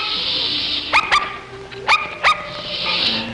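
A dog named Cupid barks at bedtime in an early-1960s horror TV drama, with four sharp barks in two close pairs over a hushed indoor background, no talk during the barks.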